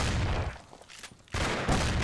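Pump shotgun fire in the video game Mafia: loud broadband blasts open and close the moment, with a quieter gap between them, the second burst sounding near and sustained.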